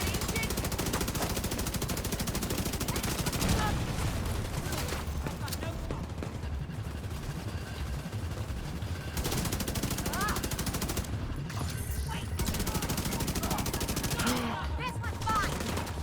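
Rapid bursts of automatic machine gun fire in the Division 2 shooter game, dense and sustained across most of the stretch, with short lulls between volleys and faint game sounds underneath.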